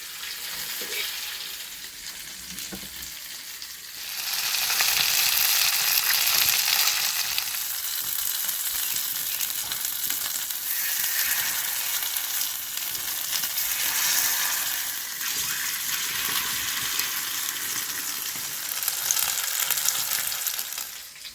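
Bangda (mackerel) coated in masala frying in a pan, a loud, steady sizzle that grows louder after a few seconds and continues for about twenty seconds.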